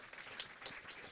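Faint, distant audience applause at a live hackathon pitch event, a short patter of many hands heard quietly for about a second.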